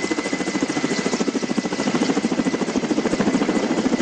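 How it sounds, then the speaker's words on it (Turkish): Firefighting helicopters work over a forest fire near Mumcular, with a steady, continuous rotor thumping and engine drone throughout and no talking. "Geniş bir alanda etkili olan yangını söndürmek için helikopterler yoğun çaba gösterdi."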